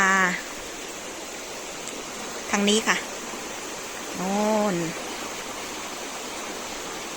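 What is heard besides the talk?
stream flowing near a waterfall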